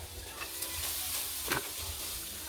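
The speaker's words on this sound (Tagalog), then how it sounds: "dito rin tayo magsasangag ng kanin" Rice being stir-fried into Filipino garlic fried rice in a pan gives a steady close sizzle with scraping spatula strokes, one sharper scrape standing out midway, and no talk.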